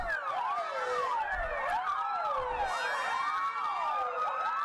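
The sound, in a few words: old Slovakian fire truck siren, wavy up-and-down cadence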